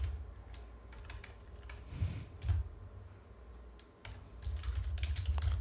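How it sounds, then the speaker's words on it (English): Typing on a computer keyboard during data entry in accounting software, a faint, quiet run of irregular key clicks with short pauses and a low background hum. "See what I'm typing"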